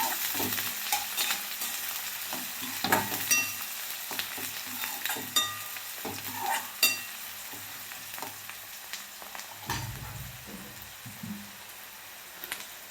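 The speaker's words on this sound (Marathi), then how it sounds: "कांदा चांगला भाजून घ्यायचा व्यवस्थित।" Chopped onion frying in hot oil in a pan for poha, a steady sizzle broken by repeated scraping stirs of a spoon against the pan, close and fairly loud, with no talking.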